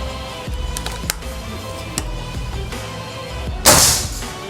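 A Daystate PCP air rifle with a wooden stock and 500 cc duralium bottle fires a single sharp shot near the end, preceded by faint scattered clicks outdoors.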